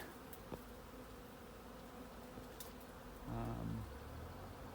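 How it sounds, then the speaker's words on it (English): A steady honey bee swarm buzz hums at a distance in a tree, with a closer low drone swelling briefly near the end; no one speaks. "Maybe see a few bees bobbing around."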